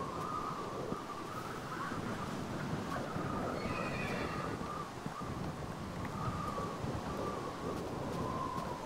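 A video game horse neighs and whinnies in a long drawn-out call over a steady wash of game ambience and wind-like noise, moderately loud and without speech.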